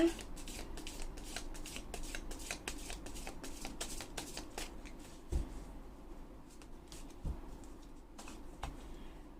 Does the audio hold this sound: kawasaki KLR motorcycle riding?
no